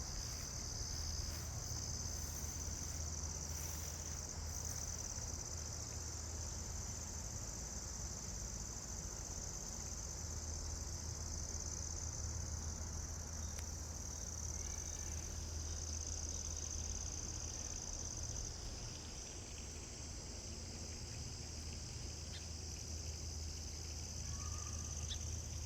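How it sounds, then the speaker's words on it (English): Crickets chirr steadily in a backyard at night, a dense, unbroken high-pitched trill that holds at an even level throughout, with a low ambient hum beneath it. "So I'm going to do nature sounds, from my own backyard that I filmed myself"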